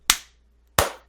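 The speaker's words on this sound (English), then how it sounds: "Everybody clap so they know where to put in the clip." Two sharp, loud claps about two-thirds of a second apart, each cracking then fading quickly, with quiet in between.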